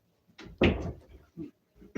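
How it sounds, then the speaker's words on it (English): Several close, soft knocks and clunks of a door being unlocked and opened indoors, one louder thud among them, irregular in timing. "I don't know why my door was locked."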